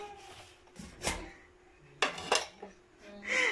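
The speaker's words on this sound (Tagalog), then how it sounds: "Yan, ako maghugas ng pinggan." Plates, pots and cutlery being washed in a kitchen sink, with scattered clinks and clatters of dishes and silverware at close range, some knocks louder than others, against quiet background noise.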